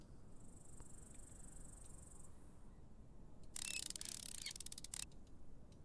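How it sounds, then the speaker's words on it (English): Bugs chirping in the game Deconstruction Simulator, a faint, thin, steady insect trill followed by a brief burst of rapid metallic clicking, with no voices. "I can hear bugs."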